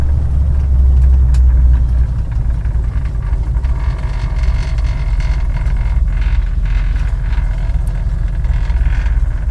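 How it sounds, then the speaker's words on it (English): A 1973 Dodge Swinger's engine idles steadily after mixture, timing and idle speed adjustment, a deep, continuous low rumble heard up close and alone, with a faint pounding from a loose brake drum or similar part. "It's idling."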